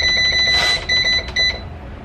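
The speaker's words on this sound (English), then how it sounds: "I guess I could preheat my air fryer. Sorry, it's going to be loud." An air fryer beeps as it starts preheating, giving a few short, high electronic tones in quick succession over a low background hum, close and fairly loud.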